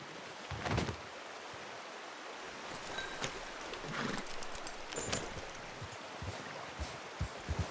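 Horse hooves clip-clopping in the video game Red Dead Redemption 2, irregular footfalls at moderate distance over a soft outdoor background with a brief whinny.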